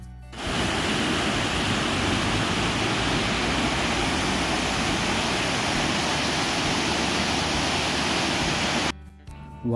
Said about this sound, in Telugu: రిటర్న్ వెళ్ళే దారిలోనే ఒక వాటర్ ఫాల్ ఉంది.